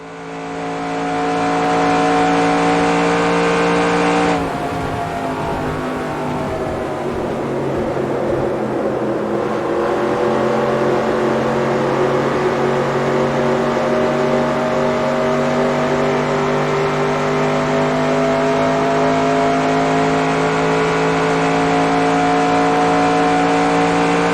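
A NASCAR race car engine screams at full throttle around California Speedway in the NASCAR Racing 2002 Season video game, a loud sustained whine that dips briefly near the start and then holds steady and continuous.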